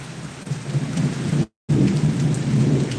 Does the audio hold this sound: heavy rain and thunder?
yes